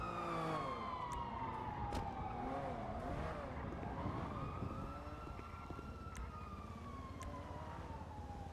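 Police sirens in the video game GTA roleplay, a wailing siren sweeping down and rising again under steady engine and traffic noise, fairly faint and continuous with no talking.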